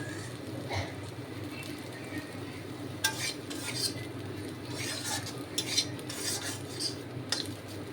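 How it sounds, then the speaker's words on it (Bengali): Sliced bitter gourd fries in a pan with a steady low sizzle, while a utensil stirs and scrapes against the metal in scattered clinks. "তিন চারটার মতো করলা ভাবলাম যে এটাই ফ্রাই করে নিই"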